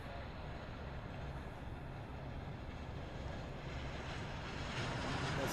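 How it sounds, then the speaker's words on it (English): A C-17 military transport aircraft taxis at Honolulu airport with a dense, constant rumbling roar that swells a little toward the end. No one speaks. "C-17's on the move"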